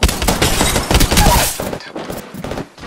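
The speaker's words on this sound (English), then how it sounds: "Taking fire." Rapid automatic gunfire in the Apex Legends video game, loud dense bursts of shots for about a second and a half, then sparser scattered shots and impacts.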